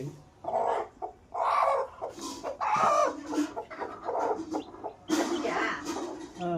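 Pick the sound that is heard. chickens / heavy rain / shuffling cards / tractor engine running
chickens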